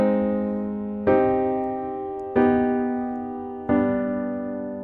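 Piano chords in root position without voice leading, played as four sustained block chords, each struck cleanly and left to ring and decay before the next, with no talking.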